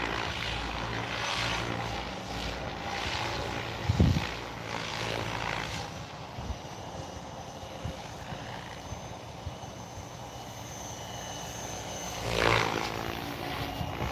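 A radio-controlled Goblin RAW 700 helicopter's rotor buzzes steadily at a distance, droning on for the whole stretch with a few brief bumps and outdoor background noise.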